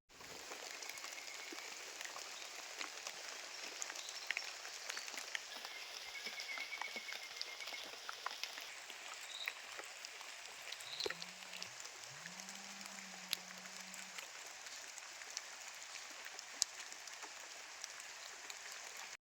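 Light rain falling steadily over an areca nut plantation, a soft, even patter that stays faint and continuous throughout, with a frog-like call briefly in the middle and no voices.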